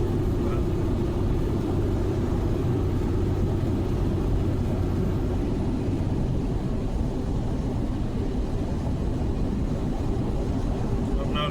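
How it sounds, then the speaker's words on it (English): A truck using its jake brake for engine braking on a downhill grade gives a steady, heavy low rumble with broadband roar and wind noise, continuous and close for the whole stretch. "Kind of let the jake brake do its thing."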